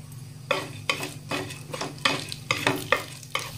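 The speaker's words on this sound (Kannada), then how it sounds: "ಉದ್ದಿನ ಬೇಳೆ ಒಂದ್ ಸ್ವಲ್ಪ ಕೆಂಪಾಗಬೇಕ್ರಿ. ಆ ತರ ಇದನ್ನ ಫ್ರೈ ಮಾಡ್ಕೊಳ್ಳೋಣ್ರಿ" Urad dal fries in hot oil in a pan, a soft sizzle broken by regular spoon-stirring scrapes about twice a second, close and clear with no talk.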